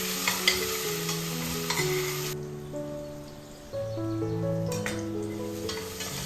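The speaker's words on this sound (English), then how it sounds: "Add crushed ginger and garlic and let the raw smell leave." Crushed ginger and garlic sautéing in a hot pan, a steady sizzle with occasional stirring scrapes, close and moderately loud under light background music.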